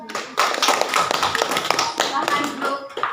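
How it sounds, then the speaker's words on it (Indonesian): Classroom applause for a group of junior high students, a dense patter of many hands clapping at once, fairly close and steady for a few seconds, with voices faintly underneath. "Tepuk tangan dulu buat kelompok 4."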